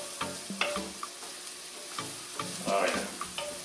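Apples and onion coated in curry, frying in a pan and being stirred, with a close crackling sizzle and repeated scraping and rattling of the spoon.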